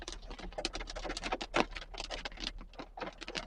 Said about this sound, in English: You gotta see how big these raindrops are